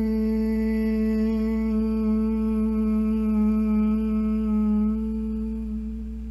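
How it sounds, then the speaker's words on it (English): A single voice hums one long, steady, resonant tone on a slow exhale, sustained evenly for several seconds before fading slightly at the end. "If you're humming, you'll find it takes a lot longer to get that hum out, which lengthens your exhale."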